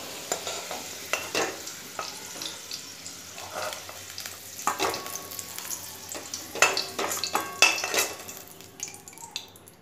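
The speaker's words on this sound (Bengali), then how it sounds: "আলুটাকেও আমি ভালো করে লাল করে ভেজে নিয়েছি, এবার আমি আলুগুলোকেও তুলে নেব" Potatoes fry in hot oil in a wok while a spatula scrapes and stirs them, a steady sizzle broken by repeated metallic clinks and scrapes, close and moderately loud with no talking.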